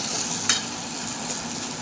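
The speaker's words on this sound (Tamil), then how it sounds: "நல்லா வதக்கி விட்டுக்கோங்க." Tomato gravy sautéing and being stirred in a pan for tomato chutney, a steady close sizzle with a brief scrape of the spoon, no voices.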